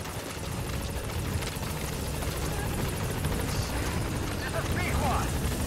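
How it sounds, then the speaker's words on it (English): Support helicopter arriving in Metal Gear Solid 5: rotors thump steadily with a loud engine roar, sustained throughout, mixed with a dense noisy background. "Support helicopter requested."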